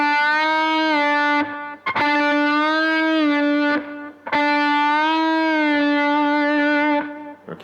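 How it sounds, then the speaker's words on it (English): A sustained electric guitar note, distorted, is given a half bend up and back down twice, rising in pitch and settling, with brief pauses between the bends. "Now we're gonna bend up and bend back down, half bend only"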